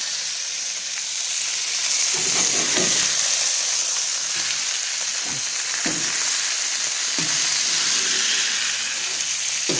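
Thick steaks sizzling over the hottest part of a barbecue, a constant close hiss with brief bursts of crackle and scraping as the meat is moved, no talk.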